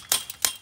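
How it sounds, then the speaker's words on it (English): A couple of sharp metallic taps on a chain link fence gate bracket being adjusted, two distinct close hits spaced about a third of a second apart. "Give it a couple taps."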